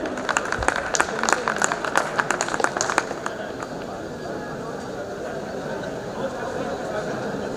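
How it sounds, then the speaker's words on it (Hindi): Audience applause at a polytechnic college alumni meet, with sharp, close hand claps for about three seconds that thin out and fade into a murmuring hall where voices continue. "जोरदार तालियों से अभिनंदन।"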